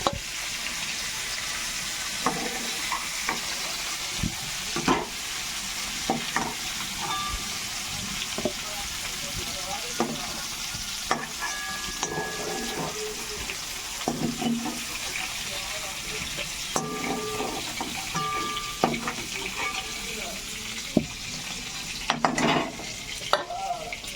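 Steady sizzling of cauliflower and potato frying in oil, with scattered clinks and scrapes of a spoon against the pan.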